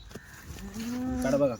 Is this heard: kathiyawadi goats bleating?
yes